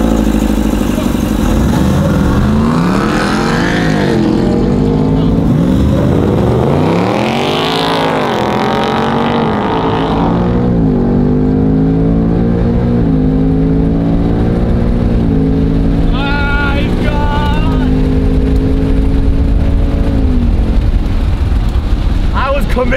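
A brand new high-end Ford Mustang races a Hennessey truck, engines revving and rising in pitch through gear changes, loud and close, with people talking over much of the run.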